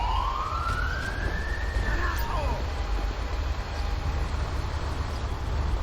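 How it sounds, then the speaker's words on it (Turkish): A fire truck siren in GTA 5 sweeps up in pitch and fades as the engine passes, loud and continuous over a steady traffic rumble, with no one talking. "Evet, itfaiye gidiyor."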